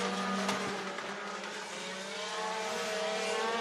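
Race cars at Clarksville Speedway in Tennessee running the high line into turn 3, a sustained engine drone with shifting whine as cars pass, fairly distant and moderately quiet.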